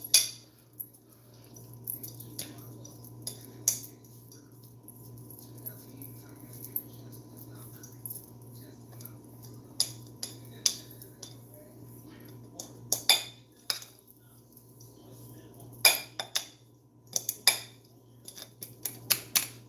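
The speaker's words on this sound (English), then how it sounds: "I'm just gonna mix it in just like that." Dry ingredients for low-carb red velvet cookies, including almond flour, are mixed in a bowl: faint, scattered clinks and scrapes of a utensil against the bowl over a quiet low hum, with sporadic louder knocks.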